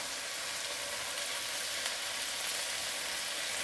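Hakka noodles stir-fried with tofu give off a steady, dense sizzle, even and unbroken from start to end, heard alone with no talking.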